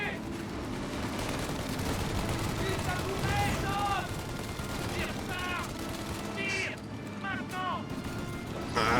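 Steady rattling gunfire and shooting sounds run through a chaotic video game battle, with a turret involved, repeated bursts over a constant loud background, while players talk excitedly in French over the action.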